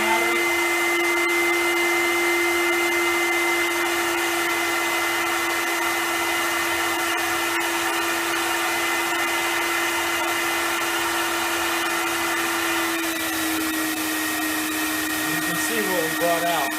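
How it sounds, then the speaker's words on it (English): A Vapor Clean Desiderio Plus steam cleaner vacuum runs with a continuous loud, steady whine and airy roar, its pitch shifting slightly near the end, close by with no talking. "So turn on the vacuum"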